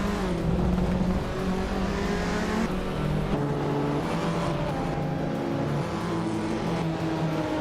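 Retro race cars, led by a 1983 Porsche 911, at Road Atlanta in a racing game, engines droning loudly together with pitch stepping up and dropping through gear changes, continuous throughout.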